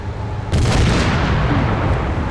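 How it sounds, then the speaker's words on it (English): Artillery fire in Arma 3 during a Falklands War scenario, a loud, heavy boom that erupts suddenly and rolls on with a sustained rumbling tail. "That artillery is going to be a big issue here, too"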